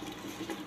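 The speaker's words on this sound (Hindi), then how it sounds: "आप अपना कप भी धो के पाता" Water running steadily from a tap as a cup is rinsed in a home kitchen while chana masala cooks, a short continuous splashing flow with no talk.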